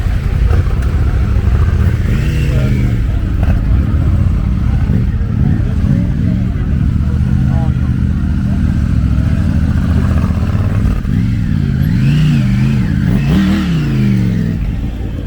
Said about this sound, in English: So I think bikes are just starting to leave now.